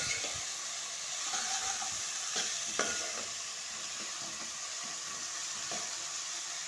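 Chopped onions and ginger frying in a pan for chicken curry, a soft steady sizzle with intermittent scraping stirs of a spoon against the pan, fairly quiet and close.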